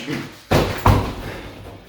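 Two heavy thuds about a third of a second apart as a kick strikes a punching bag, each a short, close, solid impact fading quickly, with no talking.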